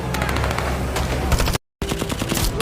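Rapid machine gun fire crackles in dense, loud bursts during a shootout on a ship in a zombie film. It cuts out for a brief moment of silence, then the burst resumes.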